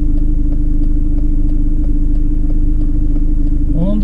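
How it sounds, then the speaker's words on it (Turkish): A SsangYong Kyron Xdi 4x4 diesel engine idles steadily, a loud, even low rumble with a regular clatter that holds for the whole stretch, with a faint brief sound near the end. "Bakın şimdi dizel sesini şimdi duyuyoruz. Rölantide dururken araba."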